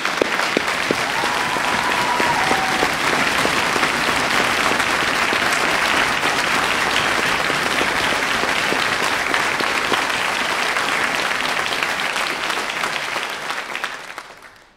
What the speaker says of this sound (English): I would ask you to join with me in applauding all those people who are in your